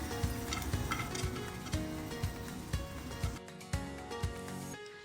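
Asafoetida sizzles as it fries in hot coconut oil in a pan, a steady crackling hiss broken by regular soft knocks of stirring, moderately close with no talking.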